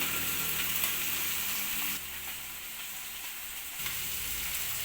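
Small masala-coated fish frying in hot oil, giving a loud, steady, close sizzle with bright crackling that shifts slightly in level as they are moved, no talk.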